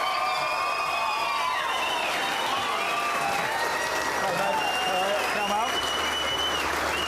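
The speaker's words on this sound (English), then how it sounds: "so keep the applause going" Applause and cheering from a motorsport event audience at Mount Panorama, Bathurst, a loud, steady wash of crowd noise with whistles and voices layered over it, continuing throughout.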